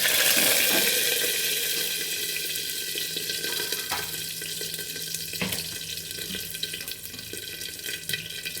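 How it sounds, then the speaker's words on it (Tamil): Curry leaves frying in hot oil for a mutton gravy, with a lid set over the pan against splattering: a steady, close hiss that is loudest at the start and eases slightly, with a few faint clinks. "இப்போ கொஞ்சம் கருவேப்பிலை போட்டுக்கலாம், இறக்கையில் கொஞ்சம் போட்டுக்கலாம். தெரிக்கும், அதனால் மூடி போட்டுக்கலாம்."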